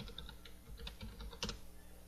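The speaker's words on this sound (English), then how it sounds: "As you hear me typing away, Seth MacFarlane." Fast typing on a computer keyboard, soft irregular clicks with a louder cluster near the end, faint and close under a low background hum.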